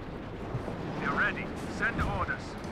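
Artillery barrage from the strategy game Company of Heroes 2, a close-range Katyusha rocket strike with muffled rumbling blasts and whistling shells, heard under steady game noise.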